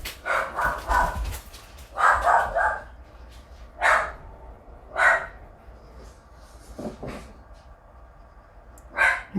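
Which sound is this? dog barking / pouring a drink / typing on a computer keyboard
dog barking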